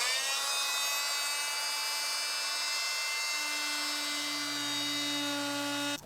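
A power tool cuts through plywood during a camper floor repair, a steady, loud high-pitched whine with a strong tonal drone that holds for about six seconds before stopping abruptly at the end.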